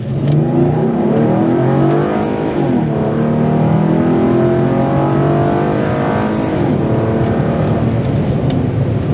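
A Holden VF Commodore SV6's raspy V6 engine revs steadily while driving, a loud, continuous rising and falling drone heard close up from inside.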